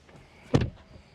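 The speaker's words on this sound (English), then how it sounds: "let me close the door." The rear door of a Tesla Model 3 Highland swings shut with a single solid thud from inside the cabin, short and close, with quiet surroundings before and after.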